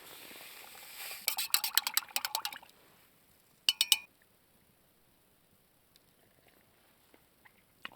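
Hot spiced apple cider being poured outdoors on a frozen lake in the snow, a short liquid trickle with clinks of a cup, followed by a brief second clink and then near silence with faint small knocks.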